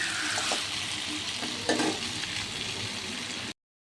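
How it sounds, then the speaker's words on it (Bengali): Meat mixed with spices fries in a kadai, a close, continuous sizzle with a couple of stirring scrapes, then the sound cuts off abruptly near the end. "মাংসটা আমি কড়াইয়ে রান্না করব"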